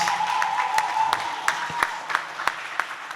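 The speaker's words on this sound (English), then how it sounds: "Big round of applause." Audience applause at a mental health event, with scattered sharp claps over a sustained wash of clapping and a faint tone running underneath.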